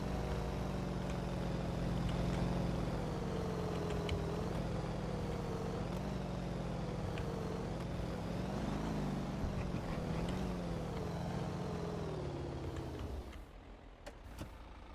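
A motorboat engine in the DayZ video game drones steadily at a loud, even pitch, with the tone rising and falling slightly as it runs flat out in top gear, then dropping away near the end.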